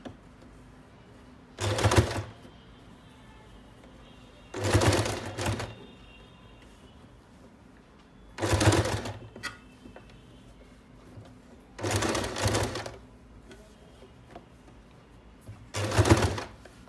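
A sewing machine stitches a doormat made from saree and dupatta fabric in five short bursts of a couple of seconds each, spaced with quiet pauses, each a close rapid mechanical whir.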